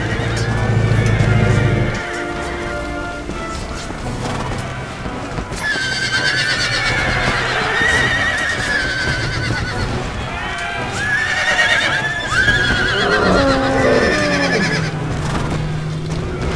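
In the video game Empire: Total War, horses whinny and neigh repeatedly over a busy battle din of hoofbeats, clashing, and shouting, with a voice speaking briefly.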